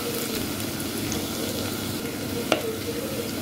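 Food sizzles steadily as it sautés in a clay pot for chicken curry, with a soft continuous frying hiss and one sharp stirring knock midway.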